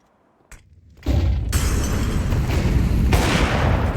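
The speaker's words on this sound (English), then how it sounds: "Just nades going off all across the map. Sounds like fireworks." Grenades exploding across the map in a Counter-Strike 2 professional match on Vertigo, a sudden booming burst swelling into a dense, continuous roar of blasts and crackle like fireworks, loud and sustained with no talk.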